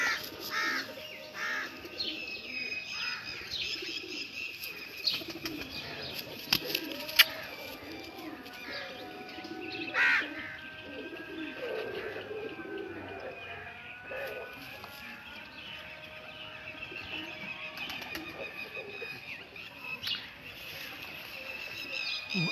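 Teddy pigeons of a prized bloodline coo and call near and far in a loose, ongoing chorus, with a few sharper calls and faint voices in the background.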